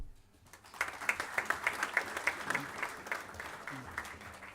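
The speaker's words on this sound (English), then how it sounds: "Please have a round of applause for him." An audience at a university alumni event breaks into applause after a short quiet moment, moderately loud clapping from a seated crowd that gradually thins out toward the end.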